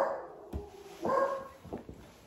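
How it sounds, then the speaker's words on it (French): Dogs on a property react to a stray dog, with a few short, moderately distant barks and whimpering yelps spread across a couple of seconds. "Il y a un chien qui est dans notre terrain là. Et du coup, les chiens sont dans tous leurs états."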